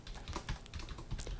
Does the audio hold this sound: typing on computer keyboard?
yes